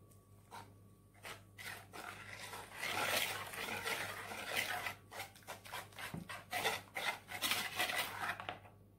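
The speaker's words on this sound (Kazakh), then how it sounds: "Жақсылап араластырамыз." Sponge cake batter is mixed by hand in a bowl, giving close, rhythmic scraping and rubbing strokes that repeat quickly with brief gaps, with no talking.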